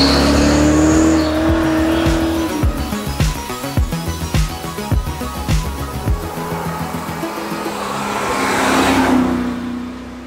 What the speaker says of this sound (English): it makes a noise and a feel that's different from every other engine